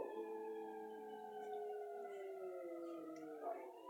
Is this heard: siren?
yes